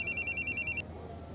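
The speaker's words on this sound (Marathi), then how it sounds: "माझ्या मैत्रिणीचा फोन आहे" A phone's ringtone warbles in rapid repeated electronic pulses for under a second, then cuts off, leaving quiet room tone; fairly soft and close.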